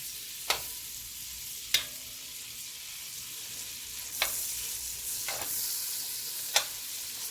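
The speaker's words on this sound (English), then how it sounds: "we're going to add 4 tablespoons of butter to the pan. And we're going to let that melt down" Four tablespoons of butter melt and sizzle in a pan, a quiet steady frying hiss broken by five sharp spoon taps against the pan.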